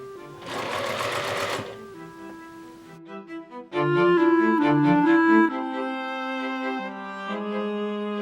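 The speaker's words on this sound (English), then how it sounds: "So I'm sewing it with a 1/4 inch seam allowance." A sewing machine stitching bias binding at a quarter-inch seam runs in a short burst of about a second, then stops. Steady tonal sounds follow for the rest of the clip.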